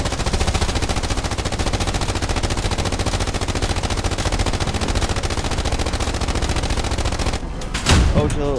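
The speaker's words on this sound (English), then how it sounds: "I was randomly shooting." Sustained, loud automatic gunfire from a warfare-mode shooter on the Khursk map, a dense continuous fusillade that runs for several seconds before breaking into a sharper burst near the end.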